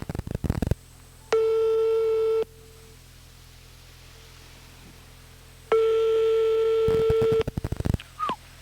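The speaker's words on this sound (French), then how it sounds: "on est en train de faire le numéro de téléphone donc de Christine" A telephone line is heard while a number is dialed: two long, steady electronic tones separated by a quiet gap, with a few clicks and knocks of the handset at the start and end.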